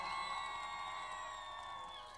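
Audience applause and cheering at a ruchenitsa folk dance competition in Kavarna, a dense, steady wash of crowd noise with whoops, mixed with sustained musical tones and fading slightly toward the end.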